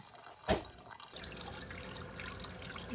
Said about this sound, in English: I'm just going to set the colander right on the sink and let it drain